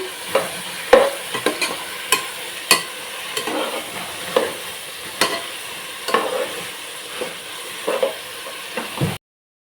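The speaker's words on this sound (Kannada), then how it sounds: "ಇದಕ್ಕೆ ನಾನು ಧನಿಯಾ ಪೌಡರ್ನ ಒಂದು ಸ್ವಲ್ಪ ಅಂದರೆ ಒಂದು 1/2 ಟೇಬಲ್ ಸ್ಪೂನ್ ಆಗುವಷ್ಟು ಸೇರಿಸಿ ಮಿಕ್ಸ್ ಮಾಡ್ತಾಯಿದ್ದೀನಿ." Biryani masala for a veg biryani being mixed in a pan after about half a tablespoon of coriander powder goes in, with a steady soft sizzle under repeated scraping strokes of a spoon, close up and without talk.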